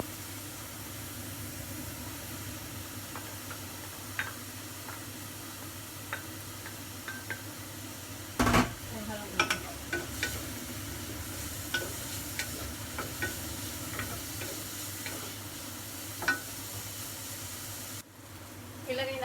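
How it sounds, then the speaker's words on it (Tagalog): Ginger and garlic for mapo tofu sizzle gently in a hot pan, with a steady hiss under light scraping stirs and a sharp clatter of utensils midway. "Lagay yung ginger and bawang"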